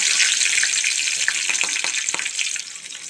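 Green chillies sauté in a hot pan, a bright continuous sizzle up close with a few soft clicks of stirring, easing slightly toward the end.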